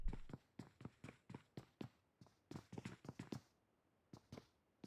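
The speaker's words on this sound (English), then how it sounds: "Hearing the footsteps, keeping a low profile." Footsteps in a tactical competitive shooter match, a quick run of light, evenly paced taps that pause briefly, resume in a faster cluster, then trail off into near silence.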